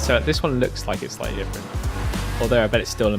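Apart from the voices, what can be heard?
None of the usual background noises is heard.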